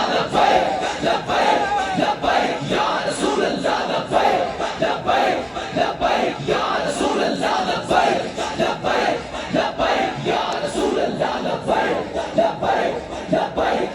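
A large crowd chants Labbaik religious slogans in unison, a dense, loud, continuous roar of many voices with rhythmic swells throughout, at a gathering marking the arrival of Allama Saad Rizvi.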